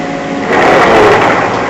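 A CNC machine in a barn runs a drilling program at slow speed, giving a steady, loud mechanical whir and hum that swells slightly midway and continues without pause.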